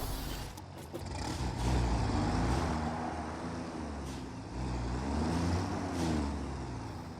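A vehicle in the factory-building game Satisfactory drives along with a steady, rumbling truck-like engine drone, its pitch rising and falling as it moves, heard close and continuous with no voices.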